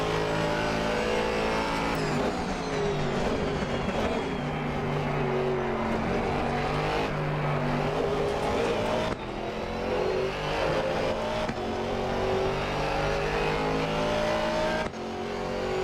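Aston Martin GT4 race car in a racing video game at Suzuka, its engine droning loudly and steadily throughout with rising and falling revs through gear changes, alone without voices.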